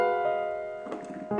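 A piano plays a 2-5-1 progression chord voiced with added color tones, sustained and ringing, with a second chord struck near the end.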